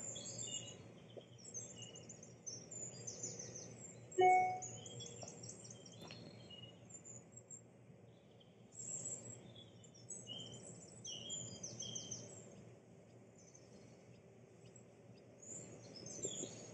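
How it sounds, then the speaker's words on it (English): Birds in a perennial garden sing faint, high chirping phrases in scattered bursts, with a sharp nearer call around four seconds, over a quiet outdoor hush without talk. "Listen to the sounds around us, the birds, the wind, the sounds of life."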